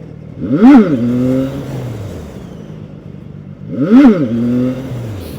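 A CFMOTO 675NK motorcycle engine twice surges up in pitch and drops back in quick, loud revs. The two bursts are a few seconds apart, with a lower idle between them and no talking.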